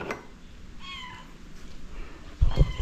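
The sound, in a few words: cat meowing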